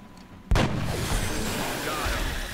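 A gunshot in the XCOM: Enemy Unknown video game, a single sudden loud blast after a quiet moment, then a long booming rumble that fills the rest.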